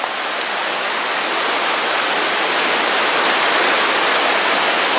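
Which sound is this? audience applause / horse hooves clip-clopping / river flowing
river flowing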